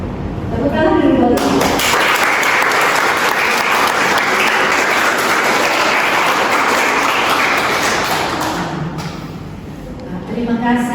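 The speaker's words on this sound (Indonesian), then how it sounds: "Tepuk tangan dulu." A crowd in a university lecture breaks into sustained applause for several seconds, loud and steady, with a voice speaking just before and after.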